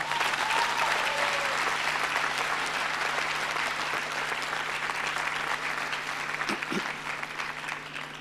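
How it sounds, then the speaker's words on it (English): Applause from the audience at a UWI Mona graduation ceremony in 2017, a steady crowd of clapping heard from a distance in a large hall, sustained for several seconds and slowly tapering. "that deserves an applause"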